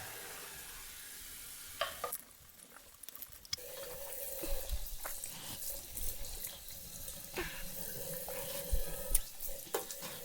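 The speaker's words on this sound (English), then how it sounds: "I'm gonna wash up now." A bathroom tap runs water into a sink while someone washes up after shaving, a steady hissing splash at close range with small clatters and shifts in flow, no talk over it.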